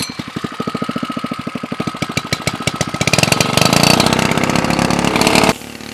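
A small gas engine driving a water pump on an off-grid water cart, chugging in a rapid even rhythm that speeds up and grows louder as the throttle opens, then drops back suddenly.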